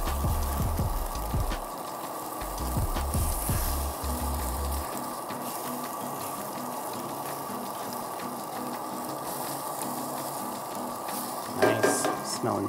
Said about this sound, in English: So we're just making scrambled eggs here.